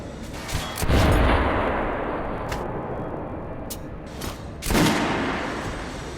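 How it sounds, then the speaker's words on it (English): Guns fired at a shooting range in the game Metro: Last Light Redux: two loud, close bursts of rapid gunfire, each decaying into a long rumbling echo. "Head over to my range and try out those guns."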